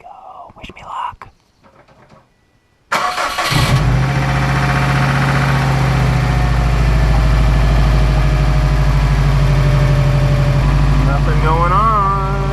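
After a few soft rustles and a brief quiet gap, a Subaru EJ255 engine cranks and catches, then settles into a steady, loud idle.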